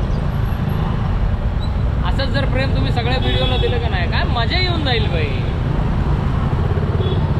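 Dense road traffic around a motorcycle on the way home, a steady loud rumble of engines and wind, while someone talks over it in the middle.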